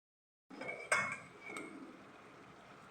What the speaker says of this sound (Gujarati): હવે આ બધું મિક્સ કરી લેશું।